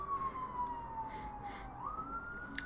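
Faint emergency sirens sound in the distance, a thin wailing tone that slides slowly downward and then jumps back up, with a few soft thumps and no speech.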